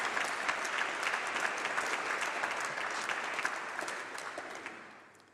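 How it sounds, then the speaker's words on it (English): Graduation ceremony audience applauding steadily in a hall, a dense wash of many hands clapping with scattered cheers, sustained for several seconds and fading out at the end. "please can you join me in giving a round of applause and a cheer for everyone who's made it possible for you today"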